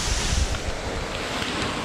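A waterfall pours onto basalt columns of old lava flows on a volcano, heard as a loud, steady broadband rush of falling water with wind buffeting the microphone and no speech.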